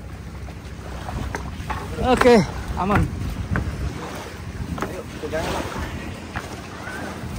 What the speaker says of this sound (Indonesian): Sekarang kita langsung aja naik ke kapal.